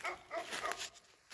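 A dog whimpers and gives soft, muffled yips in a short burst, faint and somewhat distant, with no talking.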